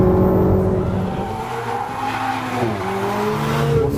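A Ferrari 488 GTB with a turbocharged V8 is driven hard, its loud engine note sweeping up and down steadily and close throughout, with a hint of tyre squeal and no speech.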